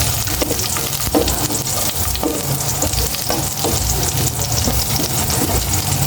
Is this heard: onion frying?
yes